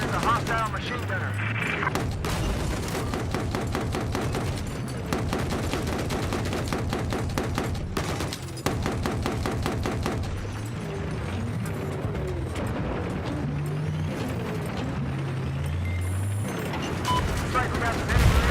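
Machine gun bursts and gunfire in a military shooter video game, with rapid mechanical rattling and clatter running steadily throughout, mixed with game effects and a voice talking over it.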